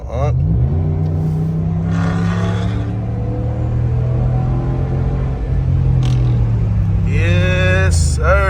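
A Ram 1500 pickup's 5.7-liter Hemi V8 with a muffler delete, heard from inside during a late-night drive in Atlanta, holds a loud, steady exhaust rumble for the whole clip. The engine briefly revs up near the end.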